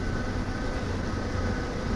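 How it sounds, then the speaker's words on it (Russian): An underground electric train in Belgrade, Serbia rumbles steadily with a dense, loud, continuous roar and no pauses, heard from on board or close by. "Вот такие электрички в Сербии ездят под землей."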